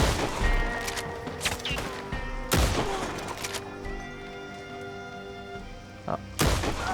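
Shotgun blasts in Red Dead Online, a few sharp, heavy booms spaced apart, each ringing out over a backdrop of game music and ambience, with a person talking briefly.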